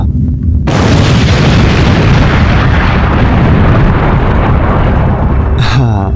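A loud, sudden explosion blasts a hole through a prison cell wall, followed by a sustained roaring rumble and debris noise that fills the space for several seconds.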